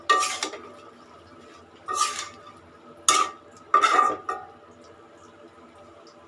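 Shrimp and water lily stems cook in a metal pot, with a spoon scraping and clattering against it in four separate stirring bursts, close and fairly loud, with quiet gaps between.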